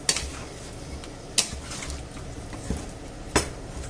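A spoon stirs white beans, clams and wine in a pan, giving light scattered clinks against the metal about four times over a low steady simmer.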